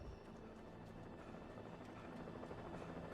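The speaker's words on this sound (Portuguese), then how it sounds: "E agora o helicóptero." Helicopter in the horror video game Alan Wake, a steady loud rotor drone that fills the whole stretch without a break and with no voices over it.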